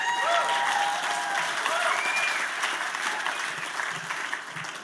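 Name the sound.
audience applause at gala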